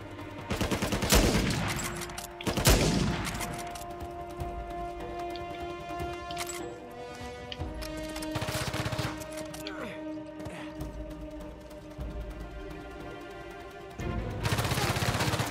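Gunfire in the video game Uncharted 4, loud bursts of rapid shots and heavy fusillades in several clusters, with ringing music tones sustained between volleys.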